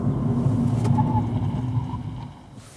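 A 2024 Kia Picanto facelift drives along with a steady low engine rumble and road noise, fairly loud and even throughout, easing off slightly toward the end.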